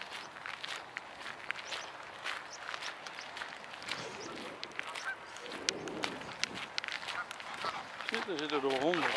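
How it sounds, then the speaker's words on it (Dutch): A flock of geese honks repeatedly in the background while footsteps crunch nearby and people talk now and then. "Kijk, al die ganzen."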